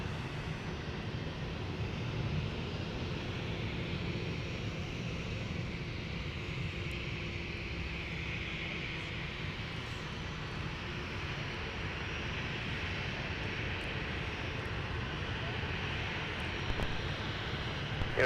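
At Minneapolis–St. Paul airport, a distant jet airliner taxis toward runway 17 for departure, its engines a steady low drone with no talk in the clip.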